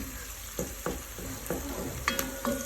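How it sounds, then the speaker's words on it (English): Onions frying in sunflower oil for Ghanaian Fante Fante fisherman's stew: a steady close sizzle with scattered crackles and pops, along with a few light stirring knocks. "So fry the onions till you get your desired amount."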